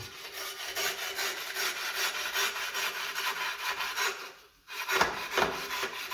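Steady back-and-forth rasping of a hand saw cutting through material on a Mercedes B 200, rhythmic strokes continuing throughout with a brief pause near the end.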